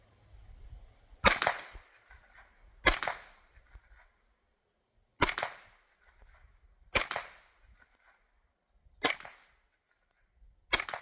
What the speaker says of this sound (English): Let's shoot a few more rounds.